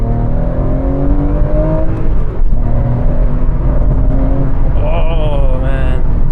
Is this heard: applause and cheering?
no